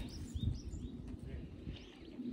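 Birds call softly outdoors in Japanese countryside, with faint chirps and low coo-like notes over a steady, quiet ambient background.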